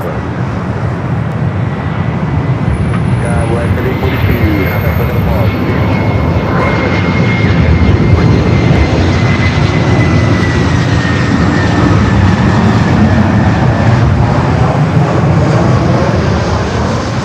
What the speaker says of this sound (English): The flight coming in from Vienna, the 777-200 ER.